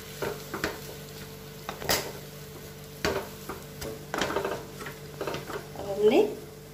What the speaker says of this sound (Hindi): इसकी मदद से बढ़िया देखो सारे आलू मिक्स हो गए।